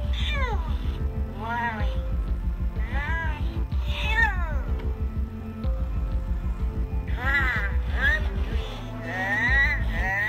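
Repeated cat meows, loud and close, rising and falling in a steady series over about ten seconds, with a low steady hum underneath.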